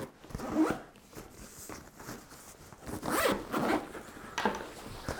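Zipper on the main pocket of a 3V Gear Shift Urban sling pack pulled open in several close rasping strokes, with a pause between pulls and a louder run near the end.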